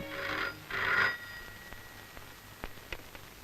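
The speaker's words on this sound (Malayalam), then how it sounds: "ഫോൺ ബെല്ലടിക്കാൻ തുടങ്ങി കുറെ നേരമായല്ലോ" An old telephone bell rings twice in short, bright bursts, moderately loud, followed by quiet room tone with a few faint clicks.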